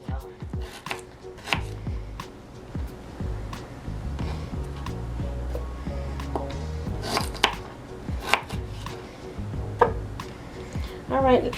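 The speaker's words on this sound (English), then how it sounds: "take your ginger root and just also cut that into pieces as well" Knife chopping ginger root into pieces on a cutting board, a run of close, sharp, irregular thuds with background kitchen hum and some talk underneath.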